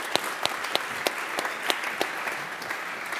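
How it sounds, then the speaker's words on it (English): A conference audience applauds after a speaker's talk with sparse, scattered clapping: a handful of sharp individual claps at a brisk, fairly regular pace over a quiet room, with no one speaking. "let's have a round of applause for Stephen."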